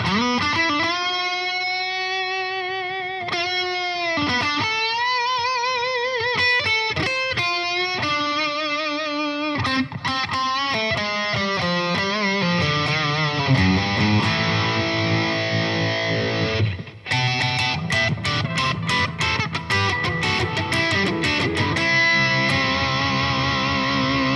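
A heavily distorted D'Angelico Premier DC electric guitar plays loud sustained notes and chords with buzzing harmonics, some slides and bends, continuing without pause throughout.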